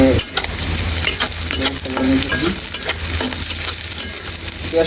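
Sliced onion frying in hot oil while being stirred, a steady loud sizzle with scraping stir strokes, no voices.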